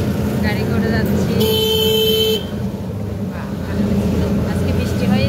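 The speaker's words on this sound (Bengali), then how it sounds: "তাই একটু গাড়ি করে যাচ্ছি।" A car moving through busy city streets during Puja festivities after rain, with a loud, sustained horn blast standing out over steady traffic noise and people talking.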